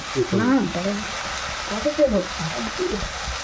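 Eggplant fries in hot oil in a village kitchen in the Sundarbans. A continuous loud sizzle and hiss carries on underneath, while people talk over it in two short stretches.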